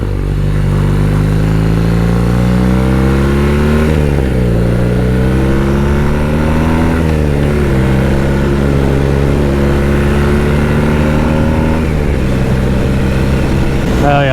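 A cafe racer motorcycle ridden through a valley, its engine droning loud and close throughout, the pitch rising and dipping with several gear changes and throttle swells, and wind rushing alongside.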